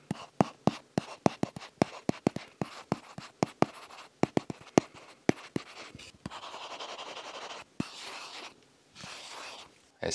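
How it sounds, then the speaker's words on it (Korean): An S Pen writes on a low-glare, anti-fingerprint screen protector film fitted to a Galaxy Tab S7+, giving close, crisp taps and short scratchy strokes in an irregular run, followed by a few longer continuous scribbling passes. "이제 마지막으로 S펜 필기감을 ASMR로 들려드리겠습니다."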